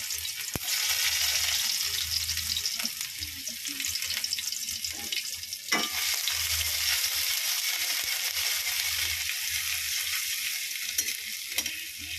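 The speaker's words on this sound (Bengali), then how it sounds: "তেল গরম হয়ে গেছে, এবার আমি আদা কুচি আর রসুন কুচি দিয়ে দেবো।" Chopped ginger and garlic hit hot oil in a pan with a steady, even sizzle that lasts throughout, broken by a couple of sharp utensil clicks.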